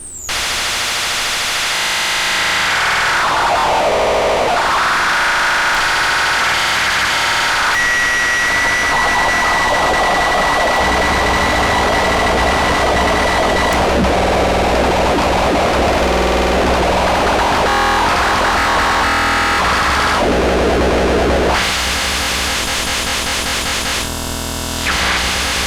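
A circuit-bent Hing Hon EK-001 keyboard spits harsh, distorted glitch noise, a loud, gnarly buzzing wash with sweeping tones and stuttering bursts. It continues for about twenty seconds with no voices.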